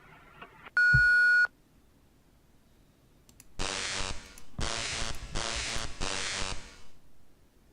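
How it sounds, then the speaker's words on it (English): Answering-machine beep from the video game Thimbleweed Park: a single clear, loud electronic tone lasting about half a second, followed after a pause by a series of bursts of noisy game audio. "leave your name and number at the sound of the beep."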